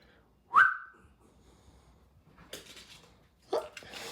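A person whistles to call a dog outdoors, one sharp rising whistle followed by softer rustling and a couple of fainter noisy bursts.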